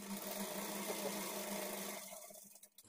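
A sewing machine stitches blouse lining in a quiet, steady whirring run that stops at about two seconds, trailing into faint handling noise.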